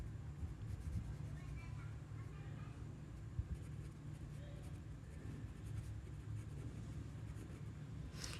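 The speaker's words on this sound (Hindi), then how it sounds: "चले मैं लिख देती हूँ।" Pen scratches out a maths solution on paper, soft and close, in a continuous low rasp against faint background hum, with a voice heard now and then.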